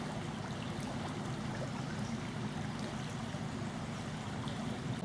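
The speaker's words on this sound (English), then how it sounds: "Quite a lot of water passing through at the moment." Steady rushing water of a stream flowing through a ford near the village of Shere, a broad low churning wash with no voices.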